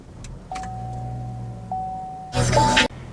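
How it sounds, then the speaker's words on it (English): In a 2022 Chevy Trax AWD, a key slides into the ignition and sets off a steady electronic chime tone, followed by a loud burst of mechanical whirring and clicking that stops abruptly. "Oh boy, we got to stick the key in."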